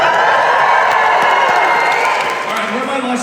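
A live audience at a Q&A event cheers, whoops and shouts loudly in one sustained burst of crowd noise, with scattered claps and high excited voices.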